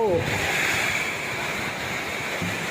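A strong, steady roar of wind rushes continuously, broad and unbroken, like a storm gusting hard close by, during a dry-season summer storm on a farm in Thailand.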